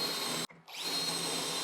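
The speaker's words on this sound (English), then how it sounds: "drill my holes, and then I can go to the next one" A power drill bores holes for cabinet hardware, a loud close whine that cuts out for a moment and then spins back up.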